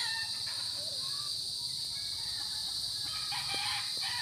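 Chickens at a poultry farm in Porac, Pampanga, with roosters crowing and hens clucking softly through a steady, busy background, a few sharper calls standing out near the end.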